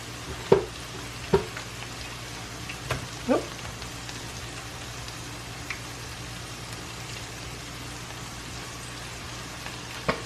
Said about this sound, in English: And you're going to cook them from about 5 to 7 minutes on each side.